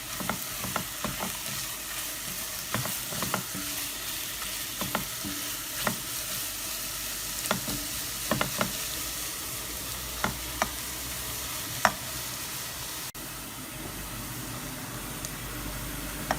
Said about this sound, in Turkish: Arkadaşlar şimdi soğanlarımızı atalım. Karıştıralım.